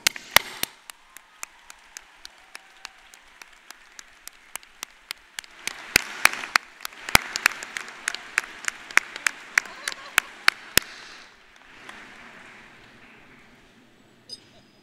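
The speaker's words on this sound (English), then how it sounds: "Let us salute them with our applause." A large crowd applauds steadily at a college commencement ceremony, sharp individual claps standing out over the dense clapping before it fades and thins near the end.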